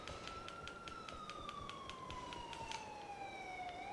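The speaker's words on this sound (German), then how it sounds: "Da kommt der Krankenwagen." An ambulance siren in the video game GTA IV wails as a faint, steady sweeping tone that slowly drifts lower, heard alone over a soft background hiss.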